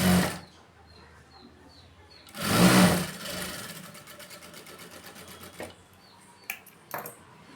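A sewing machine stitches a folded waistband with a fast, rhythmic mechanical whir after a loud burst of handling noise, then stops with a few clicks.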